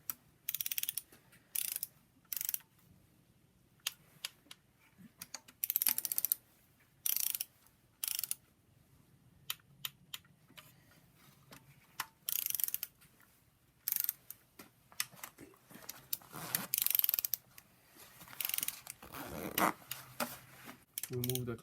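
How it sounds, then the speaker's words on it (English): A ratchet wrench clicks in repeated short bursts while torquing bolts on a BMW N54 engine from a 135i E82 during a rebuild, with quiet gaps between each run of close, crisp pawl clicks. "So torquing at 71 pound-inch."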